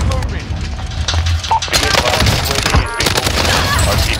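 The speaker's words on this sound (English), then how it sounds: "Hostile fire!" Rapid, loud gunfire in the video game Warzone, crackling bursts and echoing shots layered over one another, with players talking over the shooting.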